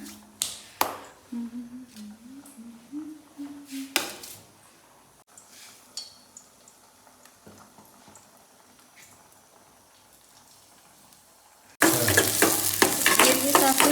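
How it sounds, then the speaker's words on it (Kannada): Onions and curry leaves go into hot oil for a North Karnataka side dish. Light taps and clinks come first, then a loud, steady sizzle bursts in near the end and carries on, with no talking. "ಉಳ್ಳಾಗಡ್ಡಿ ಕರ್ಬೇವು, ಉಳ್ಳಾಗಡ್ಡಿ ಎಲ್ಲ ಹುರ್ಕೊಂಡು ಈಗ ಅದ್ರಾಗ ಹಾಕೊಳ್ತೀನಿ."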